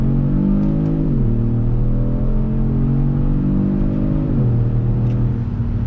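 A 2019 Kia Stinger GTS pulls hard in second gear in manual mode, its engine drone loud and steady, with the pitch climbing and dipping twice as the revs rise and fall.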